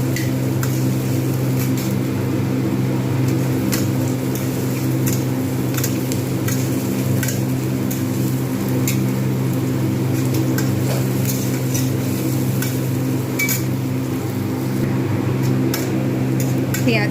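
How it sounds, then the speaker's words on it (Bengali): Finely chopped onions fry in hot oil in a pan, giving a steady, continuous sizzle with a low hum beneath and occasional stirring clicks, loud and close throughout. "তেল গরম হয়ে গেছে, পেঁয়াজটা আমি দিয়ে দিলাম।"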